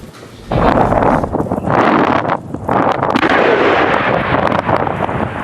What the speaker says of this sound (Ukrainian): Там бомбу підірвали.